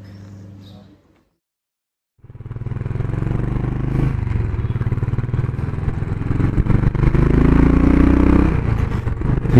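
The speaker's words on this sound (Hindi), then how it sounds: "ये बाइक चलाने में बहुत मज़ा आ रहा है यार" A 500cc motorcycle being ridden on a road trip, its engine running loud and steady after a brief silent gap, with rattling and wind noise building toward the end.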